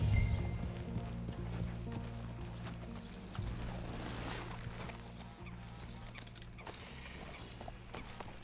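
Horse hooves clip-clop along in the open-world game Red Dead Redemption 2, a steady trotting beat under a low ambient and music bed with no talk.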